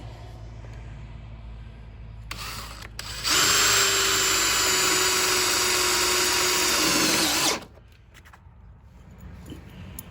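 A power drill drives self-tapping screws through the strike plate of a door jamb repair and reinforcement kit, starting with a short burst and then running as one loud continuous whine for about four seconds before stopping.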